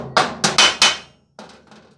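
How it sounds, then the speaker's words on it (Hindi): A rivet tool pulls rivets into a metal cooler body: four sharp, loud snapping cracks come in quick succession, followed after a brief pause by a few fainter clicks. "ये यहाँ से इस तरह रख के यहाँ रिफिट खींच डालना है दोस्तों"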